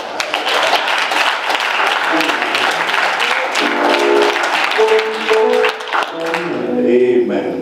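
A Baptist church congregation at a pastor's anniversary service claps hands in dense, lively applause, loud and continuous, with voices and some singing mixed in as it tapers off.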